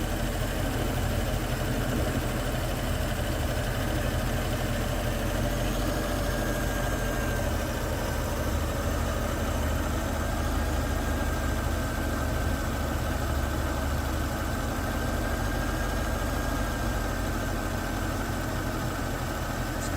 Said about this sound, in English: here's the engine running